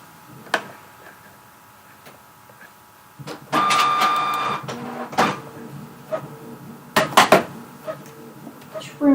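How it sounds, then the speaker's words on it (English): A paper trimmer slices cardstock panels with short scraping swipes and clicks at close range, along with light handling knocks and taps. "Trimmer."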